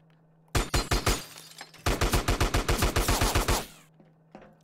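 Video game gunfire in two rapid bursts of automatic shots, a short volley followed after a brief gap by a longer, evenly spaced string of sharp, loud cracks over a low steady hum.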